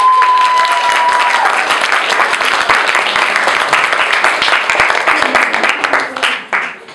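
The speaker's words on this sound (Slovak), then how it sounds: "Ešte raz veľký potlesk pre tohto elektriku." A large audience claps loudly and steadily at an eRko event, a dense sustained wave of applause that tapers off near the end.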